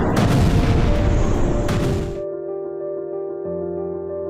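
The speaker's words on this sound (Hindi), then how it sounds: "ड्रोन हमले से प्लांट पर भीषण विस्फोट हुआ।" A drone strike explosion at a steel plant in Lipetsk, Russia, erupts as a loud, dense blast lasting about two seconds, then cuts off abruptly, leaving sustained tonal music behind it.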